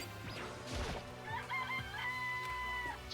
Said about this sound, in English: Chicken! I just like making it make the noise.